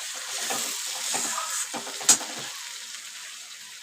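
Spice masala of tomato, ground coriander, cumin, Kashmiri chilli, ginger-garlic paste, turmeric and salt fries in a pan, giving a soft steady sizzle with a few stirring scrapes and one sharp clink, close and without talking.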